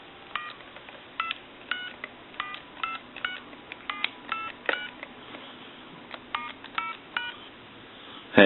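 Push-button tones from a clear Radio Shack Trimline telephone being dialed, about twenty short beeps in quick uneven bursts, fairly close and clean over a faint hum, ending with a sharp click.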